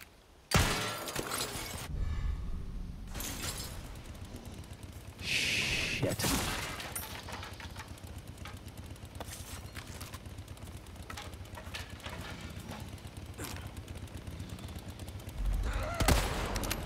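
Gunfire from Resident Evil 4 Remake, with several sharp shots and bursts scattered through a busy game soundscape, including a louder blast near the start and another near the end.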